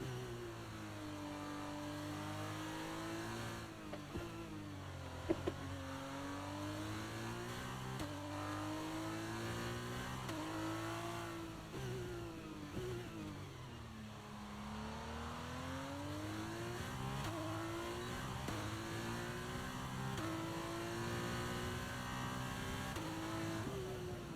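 An F2 race car engine in the F1 23 video game at Singapore revs continuously, its pitch rising and falling through gear changes and corners, heard alone without talk.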